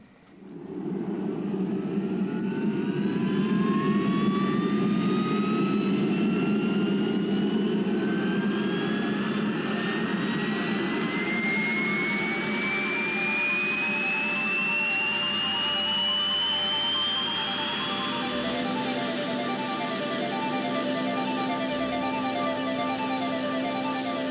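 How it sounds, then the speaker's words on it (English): A helicopter engine runs steadily with the rotors turning, a loud continuous turbine whine rising gradually in pitch over a low heavy drone, heard close and alone throughout. "We've got rotors turning at the top."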